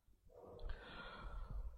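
A person draws a breath before Quran recitation, a soft, close, drawn-out inhale lasting over a second, alone with no talk.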